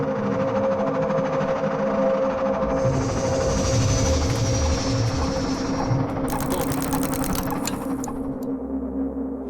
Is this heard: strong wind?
no